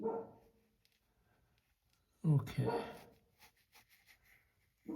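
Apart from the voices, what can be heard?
dog barking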